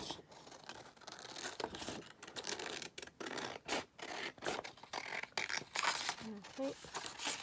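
Card stock being cut for handmade cards from a country cottages kit, with close, irregular scratchy scraping and snipping strokes while someone talks over them.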